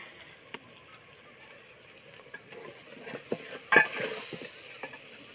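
Food frying in a pan in a home kitchen, a soft steady sizzle with faint stirring clinks and scrapes, one louder hiss burst near the end, no talk.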